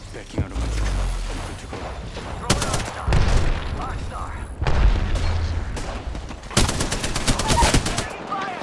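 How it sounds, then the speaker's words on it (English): A thermite grenade and a flurry of gunfire in an Apex Legends firefight: loud bursts of rapid shots in clusters, with booming impacts and continuous in-game noise, while a player talks over the action. "Thermite grenade out."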